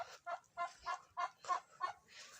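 A quick series of about eight short, sharp turkey clucks or yelps in steady rhythm, fairly close and clear, with no voices.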